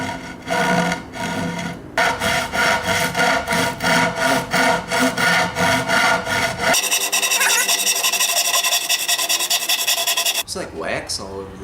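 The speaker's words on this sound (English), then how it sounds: "We're going to start cutting." Hand saw cutting through a wooden board in steady, rhythmic back-and-forth strokes close by, then a stretch of faster, continuous rasping before the sawing stops.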